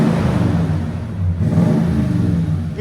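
A 2016 Toyota Tundra 5.7L V8 fitted with a 14-inch Magnaflow muffler revs with a deep, rumbling exhaust note that dips briefly and swells again, loud and close with no talk.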